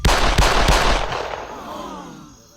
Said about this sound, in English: Suddenly, multiple gunshots rang out.